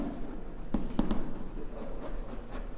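A pen or chalk writes out a maths formula, a few quiet taps and short scratchy strokes close by over faint room noise.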